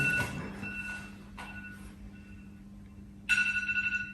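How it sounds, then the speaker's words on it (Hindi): A phone rings in short electronic bursts, with a louder warbling ring starting near the end, indoors and fairly close, in an action comedy film. "किसी अक्षय का फोन है।"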